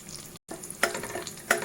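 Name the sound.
asafoetida frying in oil for tempering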